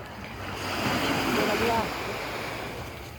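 Sea waves washing in at a beach, a broad rushing surge that swells in the middle then eases back, steady and fairly close with some wind noise.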